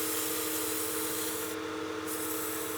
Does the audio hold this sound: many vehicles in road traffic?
no